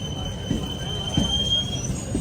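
A crowded Chennai EMU suburban train at night, heading toward Chennai Park station, rumbles steadily with a thin, sustained high wheel squeal and occasional low thumps from the wagons.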